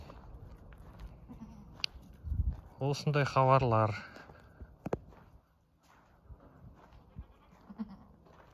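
A goat gives one loud, wavering bleat close by while tethered goats nurse their kids, with quieter shuffling and small sounds around it and a person speaking briefly.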